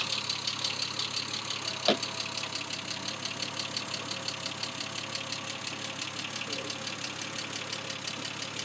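A 1973 Triumph TR6 sports car engine idles steadily with a fast, even rhythmic pulse, a brief sharp click near the start, no talking.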